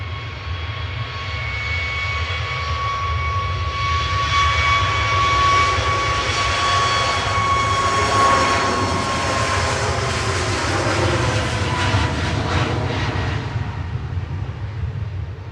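A Ryanair jet airliner departs Manchester Airport for Brussels Charleroi, a loud, sustained engine roar with a high whine running through it, swelling to a peak at mid-pass and holding strong throughout.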